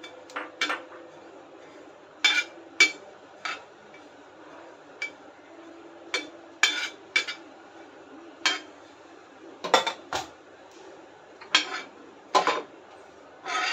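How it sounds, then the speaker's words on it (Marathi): Split mustard dal dry-roasting in a pan, with a spoon scraping and clinking against the metal in irregular sharp taps over a quiet background, up close and with no talking. "यानंतर राईची डाळ भाजून घेऊया"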